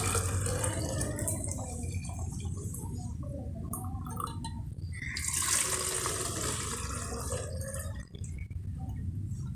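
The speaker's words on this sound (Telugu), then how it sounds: "సో వేడి నీళ్ళు అయితే కాబెట్టి పోస్తున్నాను అన్నమాట, గోరువెచ్చని నీళ్ళు." Lukewarm water being poured from a vessel at home: a continuous close splashing, gurgling flow lasting several seconds with small dripping and bubbling variations, no voices over it.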